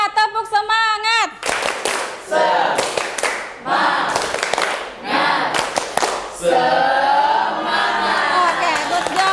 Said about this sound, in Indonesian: Tepuk semangat. Semangat. Sekali lagi biar tambah semangat. Tepuk semangat.